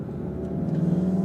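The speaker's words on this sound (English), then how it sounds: "It's just not just the engine making all the noise, but the exhaust sounding all pop here, pop there" Volkswagen Golf GTI 7.5 engine running with a steady low rumble and a rising tone, close and continuous; the exhaust pops are not distinct in this brief moment.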